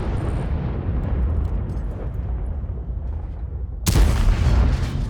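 A tank shell ricochets off armor during a World of Tanks battle. Rumbling engine and battle noise give way to a sudden loud, sharp crack near the end, followed by a ringing burst.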